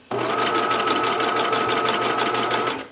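A sewing machine runs steadily for about three seconds, edge stitching bias tape binding on a Grainger coat, with a close, even mechanical whir and no pauses.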